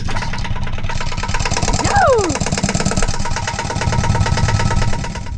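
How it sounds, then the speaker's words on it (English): A Bukh DV10 marine diesel aboard a boat runs steadily after a crank start, a loud continuous low chugging throb, with a brief shout over it. "We have an engine!"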